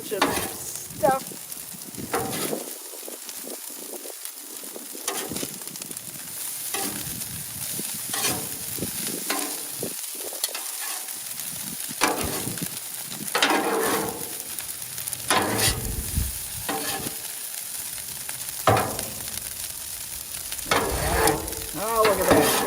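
Pork fried rice sizzles on a Blackstone griddle during a cold winter cook while a spatula stirs and scrapes through it, the frying hiss running steadily throughout with repeated metallic scrapes.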